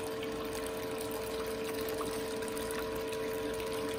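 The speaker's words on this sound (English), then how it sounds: "Pump just got a little bit louder, I don't know why." Water pump running steadily on a Royal Miller gold table while black sand and tailings wash down, giving a continuous close-up whir with a sustained tonal hum and a wash of flowing water throughout.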